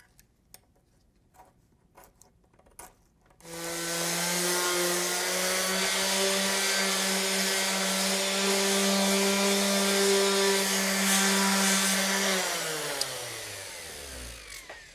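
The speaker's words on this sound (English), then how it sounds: "when I'm sanding it, it's just vibrating these pieces around" A power sander runs on a table edge being made from simple materials, starting abruptly and holding a steady, loud motor whine for about nine seconds before winding down, after a few faint knocks.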